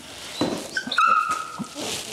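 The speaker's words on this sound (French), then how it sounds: "C'est le chien." A dog gives a short whimpering yelp with a high whine and a couple of soft barks, close by in a home, with faint background noise and no clear talk.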